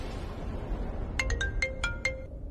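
A phone rings unanswered, its electronic ringtone playing a quick run of about six bright, evenly spaced beeping notes over a low background hum.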